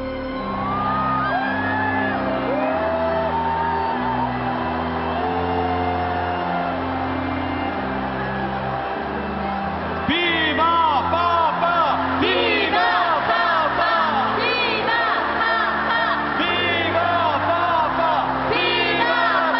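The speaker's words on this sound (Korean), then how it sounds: "뜨거운 환호로 교황님을 맞아주시기 바랍니다" A large crowd at a welcome ceremony for the Pope's visit to Korea cheers, whoops and shouts continuously, loud and sustained, with the cheering surging louder about halfway through.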